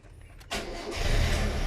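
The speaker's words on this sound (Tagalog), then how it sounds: "Makita ninyo, nag-i-start yung ating kotse." A car engine cranks and catches, shifting quickly into a steady, loud idle rumble up close, with no speech over it.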